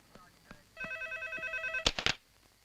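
A telephone rings with one electronic bell-like burst lasting about a second, followed by a few clunks. The room is otherwise quiet.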